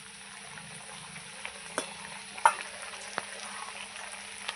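Potatoes and taro chunks, fried until reddish, with cumin and ginger paste added, sizzle steadily in a pan, with a few sharp clinks of a spoon stirring against the metal throughout.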